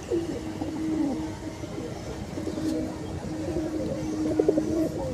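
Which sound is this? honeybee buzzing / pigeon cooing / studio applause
pigeon cooing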